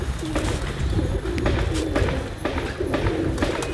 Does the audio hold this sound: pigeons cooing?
yes